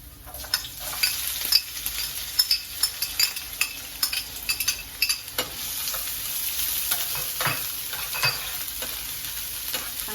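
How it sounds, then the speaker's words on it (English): Garlic and onions sautéing in a pan for Jamaican-style lasagna, a continuous sizzle broken by repeated stirring scrapes and clicks of a utensil against the pan, close and fairly quiet. "I'm going to allow my garlic to saute. I'm going to add my onions."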